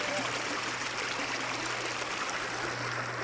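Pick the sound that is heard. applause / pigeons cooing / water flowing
water flowing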